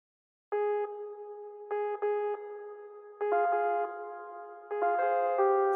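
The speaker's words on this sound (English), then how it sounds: "It's a random melodic fragment generator" A sequence of bright synth tones from a random melodic fragment generator in Ableton plays short melodic phrases with irregular note changes, clean and sustained, with no voices.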